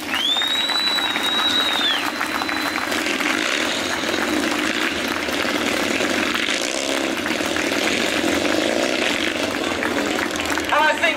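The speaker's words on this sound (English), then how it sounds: "Now, jump, that's a nice big round of applause" Outdoor crowd at Onchan Park on the Isle of Man applauding after a Purple & White Helmets motorcycle display team jump, steady clapping beneath a rising engine whine at the start.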